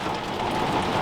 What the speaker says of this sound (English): nothing's going to stop rain like this at the moment